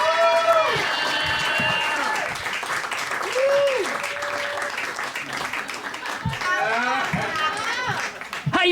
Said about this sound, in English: Get those claps going, everybody,